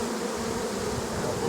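Honey bees buzz inside an opened hive, a continuous close-up drone of many wings with no pauses.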